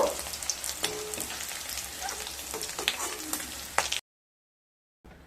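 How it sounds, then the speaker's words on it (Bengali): Prawns fry in hot oil with a steady, close crackling sizzle and scattered sharp pops, which cut off abruptly into about a second of silence before resuming briefly. "চিংড়ি মাছগুলোকে ভেজে নিয়ে তারপর ফিরে আসছি।"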